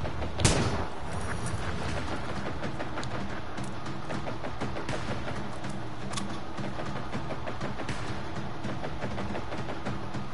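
Gunfire in the video game Generation Zero: one loud shot at the start, then a dense, steady stream of rapid shots and impacts for about ten seconds.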